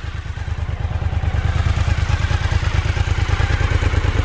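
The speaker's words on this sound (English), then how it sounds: "We're going to be taking this motorcycle on the freeway" A motorcycle rides on the freeway, its close, loud engine thrumming in a fast, even pulse with wind rush on top, holding steady and slightly building over several seconds with no talk.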